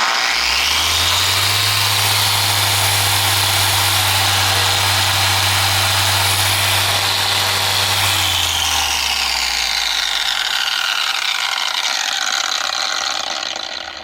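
A ShineMate EX620 polisher runs at speed 6, a loud steady motor whine with a low hum for about eight seconds, then winds down and spins to a stop.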